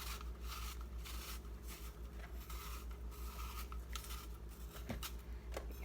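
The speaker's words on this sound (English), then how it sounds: "you have your sharp paring knife, and you're just going to peel all the way around" Sharp paring knife peeling an apple all the way around, making a steady, quiet scraping and rubbing texture with a few small clicks, close and without talk.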